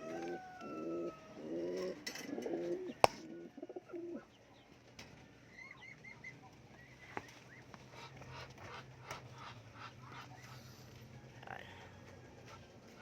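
Racing pigeons in a loft, including a green seal and a black checkered bird, coo softly at feeding time, their low murmuring calls clearest at the start and then fading into quieter cooing and faint background rustle.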